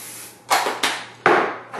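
Fat-free canola oil spritzes from a spray can onto mushrooms in a pan in three short hissing bursts, close and fairly loud, with a faint steady hum underneath.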